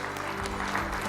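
Audience applause at a Hindi arts, literature and music gathering welcoming guests on stage, a steady dense clapping that fills the whole moment with no voice over it.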